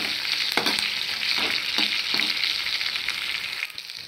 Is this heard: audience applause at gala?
no